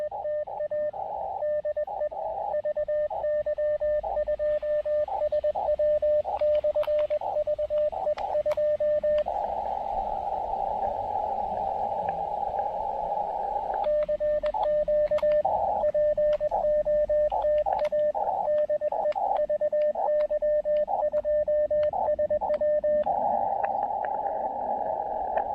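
A steady electronic tone hums through radio static on an Elecraft KX2 radio receiver with an end-fed wire antenna, broken by short beeps and clicks, with a second tone briefly joining in partway.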